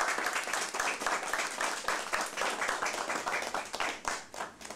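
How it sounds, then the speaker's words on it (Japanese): Audience applause closes a snow-removal machine operator training course: dense, steady hand clapping from a group, close and fairly loud, continuing evenly throughout with no talking. "感謝の意を込めて拍手で終わらさせていただきたいと思います。"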